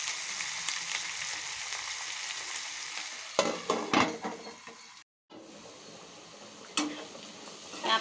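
Chopped capsicum sizzling in a frying pan as a spoon stirs it, a steady hiss with scraping and clinking from the utensil against the pan, close and alone.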